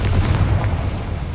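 A short, heavy boom from the Confringo fire spell in Hogwarts Legacy, a single deep burst that lands close and loud and then fades out quickly.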